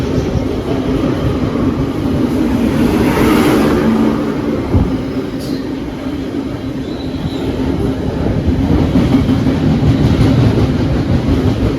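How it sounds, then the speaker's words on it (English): A Class 66 diesel locomotive hauling a freight train rumbles past continuously, a heavy steady roar with faint rail clatter and a brief high squeal midway, loud and close throughout. "This is the bin train."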